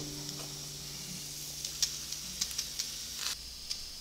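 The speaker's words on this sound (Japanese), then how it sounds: "松茸の余った部分は焼き松茸に。" Leftover matsutake mushroom pieces grilling, a soft steady hiss and sizzle with a few faint pops and crackles, close and quiet, no voices.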